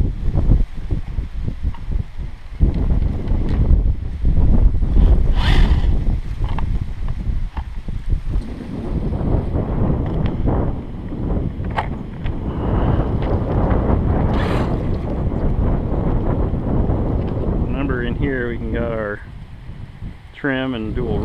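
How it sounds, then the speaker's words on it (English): Gusty outdoor wind buffets the microphone throughout, a steady low roar with bursts, while a person talks and a small 1/16-scale REMO short course RC truck is prepared nearby. "I hope the wind isn't too bad for you guys today."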